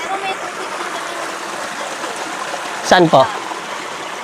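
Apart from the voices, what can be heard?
water flowing from a natural spring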